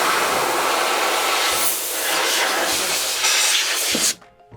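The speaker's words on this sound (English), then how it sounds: "when blowing out with compressed air, it helps to rotate the hand wheel at the same time" Compressed air blowing lint and fuzz out of an 8-thread serger while its hand wheel is turned, a loud, steady close-up hiss lasting about four seconds before cutting off abruptly into near quiet.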